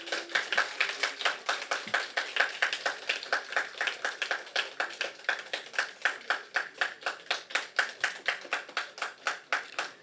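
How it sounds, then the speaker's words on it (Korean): A church congregation at a Sunday service claps steadily to welcome a person coming forward for baptism, a dense, continuous round of hand claps with a quick regular pulse filling the room throughout. "우리 후검문 우리 성도님 나오실 때 박수로 환영해 주시기를 바랍니다"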